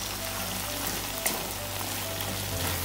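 Onions and spring onions simmer in a pan for a wet goat fry, giving a steady, soft sizzle that stays even throughout with no talking.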